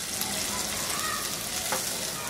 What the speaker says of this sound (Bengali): পেঁয়াজটা একটু জলদি ভাজা ভাজা হয়ে যায়